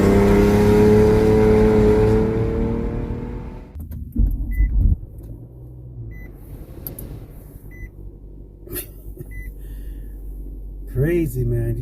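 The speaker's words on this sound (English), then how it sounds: "how a car with no exhaust sounds" Rental car engine running with no exhaust, a loud raw droning roar with rising rev harmonics that cuts off abruptly, followed by a quieter cabin with clicks, short beeps and voices.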